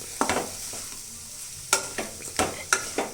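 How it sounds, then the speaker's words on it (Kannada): Grated coconut mixed with salt is stirred in a pan with a spoon, giving sharp, close scraping strokes in an uneven rhythm over a faint sizzle. "ಈ ಥರ ಎಲ್ಲನೂ ಮಿಕ್ಸ್ ಆಗೋ ಥರ ಕ್ಲೀನಾಗಿ ಮಿಕ್ಸ್ ಮಾಡ್ಕೋಬೇಕು"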